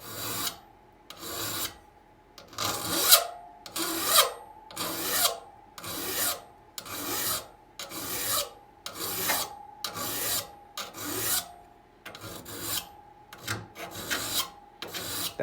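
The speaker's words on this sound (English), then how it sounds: "That's how I would do it with a triangular file." A triangular file sharpens the teeth of a crosscut saw in steady, evenly spaced rasping strokes, about a dozen close scrapes in a regular back-and-forth rhythm with short pauses between them.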